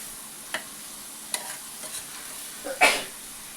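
Ivy gourd curry stirred in a pan after salt goes in, a low gentle sizzle broken by a few soft spatula scrapes and one louder clink near the end, close and quiet.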